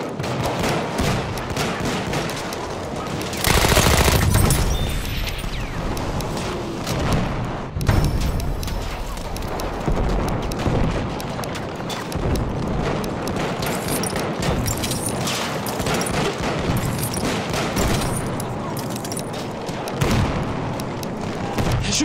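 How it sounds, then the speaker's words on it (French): Battlefield 1 multiplayer Conquest battle at Fort de Vaux, with steady machine gun fire rattling throughout, mixed with booms and explosions in a dense, loud wartime din. "J'ai repéré une mitrailleuse."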